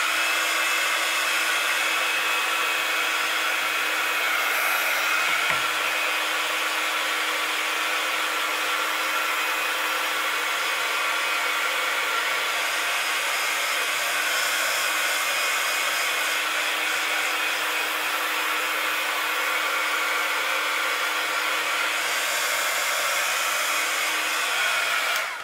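Heat gun blasting a constant loud rush of hot air to dry a craft project, steady and close throughout with no talking.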